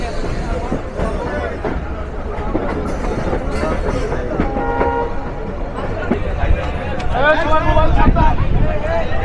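Avijatri commuter train pulling out of platform 8 at Dhaka station, a steady rolling rumble and rattle with a couple of horn toots, while voices talk nearby.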